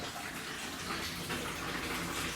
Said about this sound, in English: some water in this line is going to run backwards because the pump shut off